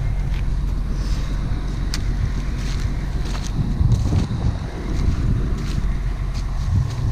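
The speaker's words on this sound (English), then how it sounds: "Tractor." Tractor engine rumbling steadily during a corn harvest on a dairy farm, a continuous low drone heard close up under buffeting wind noise for the whole stretch.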